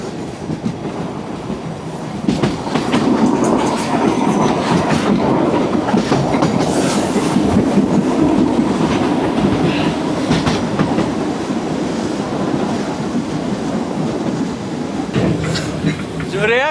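A 100-year-old train rolls along rails through a wooden Serbian village, a loud, close, steady rumble with rhythmic clickety-clack and occasional wheel squeal running throughout.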